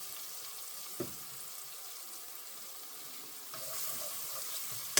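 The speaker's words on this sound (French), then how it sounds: "Et je fais sauter des légumes, tout simplement." Onion and leek sizzle faintly in a hot pan while being stir-fried, a soft steady crackle with a small clack from a utensil and a slight rise in sizzling near the end.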